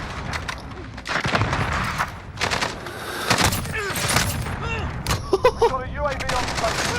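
Gunfire in Call of Duty Modern Warfare, with dense bursts of rapid shots and repeated single cracks over game effects, loud and close throughout, and voices talking at points.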